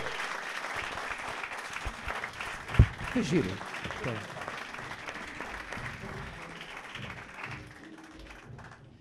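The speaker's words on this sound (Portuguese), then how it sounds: "Só palmas por José Sola!" Applause for comedian José Sola on a comedy podcast stage, a crowd clapping under a host's voice, with a sharp thump near the middle before the clapping thins and fades out.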